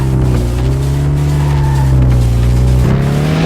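A racing-game car engine drones loudly and steadily, its pitch rising and shifting with gear changes, while tires squeal and skid through the drive; no voices.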